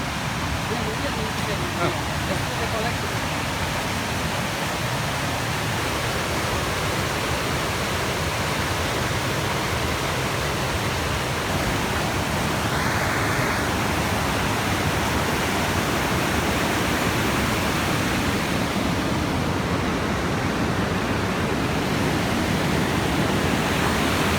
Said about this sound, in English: Oh, there's a weir.